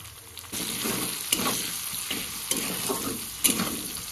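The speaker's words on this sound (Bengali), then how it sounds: "প্রথমে আমি পেঁয়াজ আছে, পেঁয়াজগুলো দিয়ে দেবো।" Onions drop into hot oil and break into a loud, steady frying sizzle after a quieter start, with a few faint clicks of utensils against the pan.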